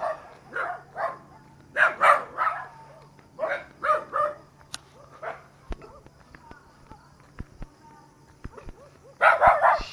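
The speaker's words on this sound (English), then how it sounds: "Oh my God, these dogs." Several dogs bark in loud bursts across the scene, with a cluster of sharp barks near the start and another loud flurry at the very end; clicks and thuds fill the quieter stretch between.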